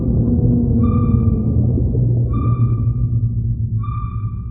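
A 52-hertz whale call picked up by a hydrophone in the ocean: a loud, steady low rumble with three repeated tonal pulses arriving at regular intervals about one and a half seconds apart.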